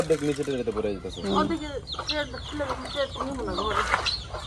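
Tiger-breed chicks cluck and cheep repeatedly up close while a person talks over them.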